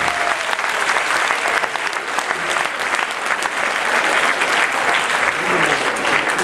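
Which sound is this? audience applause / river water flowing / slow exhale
audience applause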